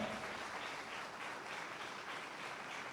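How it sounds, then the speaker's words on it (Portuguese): A church congregation gives sustained applause, a dense, even wash of clapping heard from a distance with no pauses. "Vamos aplaudir ao Senhor e fique de pé, por favor."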